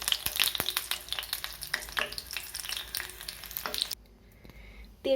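Garlic and black cumin seeds frying in hot oil for a home remedy, with crackling sizzle and sharp spatula taps for about four seconds before it quiets to a faint hiss, then another brief clatter.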